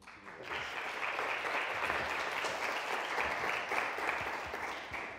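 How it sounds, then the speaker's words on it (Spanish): A lecture audience in a hall at the Biblioteca Nacional breaks into sustained, steady welcoming applause that holds at an even level from start to finish, with no voices over it. "voy a pedir pues un aplauso de bienvenida para él"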